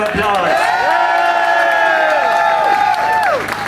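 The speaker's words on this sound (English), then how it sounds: "give him a big round of applause" A crowd at a political gathering cheers and whoops loudly, with applause underneath. The noise holds steady for several seconds, with overlapping shouts rising and falling throughout.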